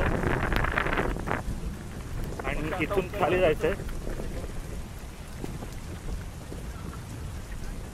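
Steady rain hisses across the whole clip, with a person talking briefly over it outdoors on a trek near Mumbai.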